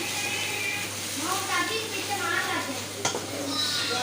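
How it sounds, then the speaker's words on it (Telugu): Sliced okra fries in a pan with a steady, close sizzle and occasional stirring scrapes, one sharper clack near the end, while voices talk over it. "ఇంకా ఇక్కడైతే బెండకాయ ఫ్రై అయితే చేస్తున్నాను"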